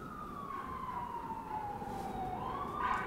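A wailing siren slowly falls in pitch over a steady traffic rumble, fairly loud and close, with no talking.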